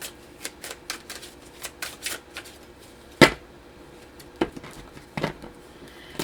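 Crisp riffling bursts of cards being shuffled, several quick flutters in a row with a sharper snap partway through, close and fairly quiet.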